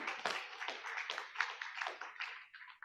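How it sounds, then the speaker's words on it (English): Applause from an audience at an award ceremony honouring Ambassador Kenneth Quinn, a dense crowd of claps that stays fairly loud and close, then thins and fades out after a few seconds. "we can have a round of applause for him"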